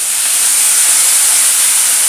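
Curry leaves sauté in a hot pan, giving off a loud, continuous, bright hiss of sizzling oil. It is close and steady, with no break and no voices across the short moment.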